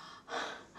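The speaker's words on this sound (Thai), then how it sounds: "หอบเหนื่อยแก่แล้วก็อย่างนี้แหละ" An old person pants for breath, giving one heavy, close gasping breath that swells and fades.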